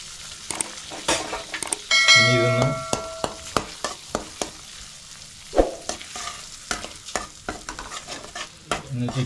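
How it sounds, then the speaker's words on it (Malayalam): Eggs scrambled and fried in melted butter in a pan for butter garlic bread, a repeated scraping stir with short clinks over a light sizzle, close by and moderately loud, with no talking. "ഇതൊന്ന് ചിക്കി പൊരിച്ചെടുക്കുക."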